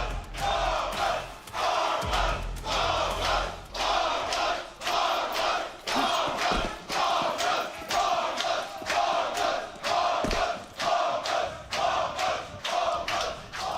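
A packed arena crowd at a Counter-Strike grand final in Berlin chants in a rhythmic pulsing pattern, roughly one loud surge every second with short dips between, sustained and booming with occasional thuds underneath, no speech.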